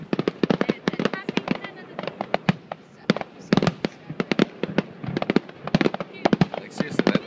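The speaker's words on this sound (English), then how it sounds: "He's flying like right into the fireworks." Canada Day fireworks burst in dense, rapid volleys of sharp cracks and pops at a steady pace, loud against the crowd, as people talk nearby.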